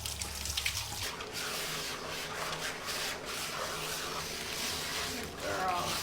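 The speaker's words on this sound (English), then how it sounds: "I needed to break out my watering can because I could not get the water to penetrate" Water streams from a watering can onto the thick coat of an Alaskan Malamute during a bath, a steady close splashing and rushing hiss that runs on for several seconds, with a low hum at the start.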